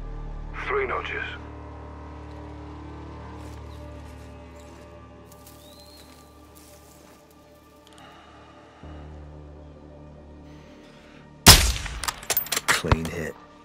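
Sniper rifle gunfire in a video game: a sharp, loud shot near the end, followed by rapid clattering echoes and impacts, after a long stretch of low ambient hum and faint distant sounds, with some speech.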